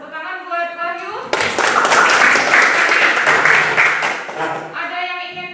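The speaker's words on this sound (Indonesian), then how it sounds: "Tepuk tangan buat Wahyu." A classroom audience claps for a student presenter in a chemistry teaching session, a loud, dense burst of applause that begins abruptly, holds steady for several seconds and then fades as a voice returns.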